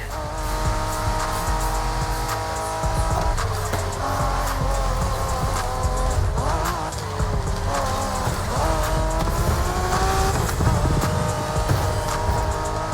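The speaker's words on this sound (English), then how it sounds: "We're going for some proper Japanese street racing." Cars street racing in the video game The Crew Motorfest, a loud continuous engine roar with shifting revs, tire squeals and skids layered under game music throughout.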